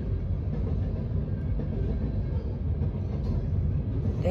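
A long train rolls past close by, a steady loud rumble with faint rail clatter and no talking.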